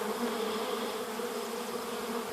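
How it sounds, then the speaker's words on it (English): A honey bee swarm hums continuously around a tree in Oxford, Wisconsin, a dense, steady buzzing drone of many bees close by, with no voices over it. "Got one or two swarms starting there, and then we got one against the tree right there"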